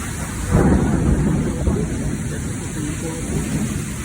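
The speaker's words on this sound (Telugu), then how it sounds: "ఉరుములు ఊరుతూ ఉన్నాయి. గాలి నిండుతూ ఉంది. వర్షం పడుతూ ఉంది." A sudden thunderstorm at AIIMS Mangalagiri brings a heavy rumble of thunder over gusting wind and steady pouring rain, loud and continuous throughout.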